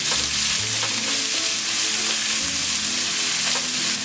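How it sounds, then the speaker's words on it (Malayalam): A ground paste of onion, garlic and green chili frying in a pan for a sprouted green gram and fenugreek thoran, a loud continuous sizzle heard close up with no talking. "മുളകൊന്ന് പൊരിഞ്ഞ് കഴിയുമ്പോൾ ഈ സവാളയും വെളുത്തുള്ളിയും പച്ചമുളകും കൂടി ഗ്രൈൻഡ് ചെയ്ത് വെച്ചിരിക്കുന്നത് ഇതിലേക്ക് ഇടാം"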